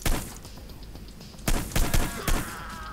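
Pistol gunfire in the game Hitman: Blood Money, with a few sharp shots sounding over a rumbling background: one loud crack, then several more in quick succession.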